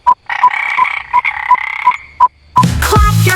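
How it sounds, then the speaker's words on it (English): A frog croaks loudly in a regular series of short, buzzy calls, about seven in a row, followed by a burst of other sound at the end. "It's a frog!"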